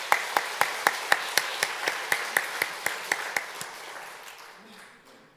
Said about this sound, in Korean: 우리 하나님께 감사의 박수를 한번 올려드립시다.